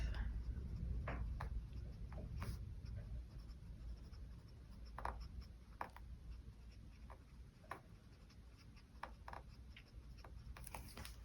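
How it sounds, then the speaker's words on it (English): Fountain pen with a fine brass nib scratching across paper, soft irregular ticks and strokes close up over a low steady background hum. "it has just been so enjoyable to write with. Love this pen"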